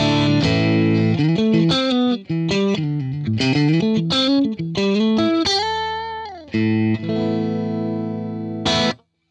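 A Tube Workshop 2864S guitar amp played through a Boss Tube Amp Expander rings out with bright, glassy electric guitar phrases, loud and close, with clear sustained notes and chords and a few short breaks before a final strum.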